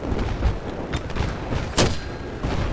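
Mortar rounds in Battlefield 3 strike a tank on Seine Crossing, producing a run of heavy booms and gunfire-like blasts with a sharp crack near the end, loud and rumbling.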